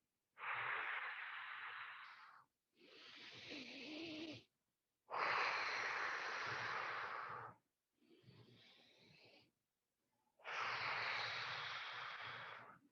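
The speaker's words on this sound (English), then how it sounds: "I'm trying to over exaggerate my breathing for you guys, so hopefully you can hear it" Exaggerated breaths during an exercise routine come as five long airy puffs, each lasting about two seconds, separated by short silences. They alternate between stronger exhales and softer inhales, recorded close to the mic.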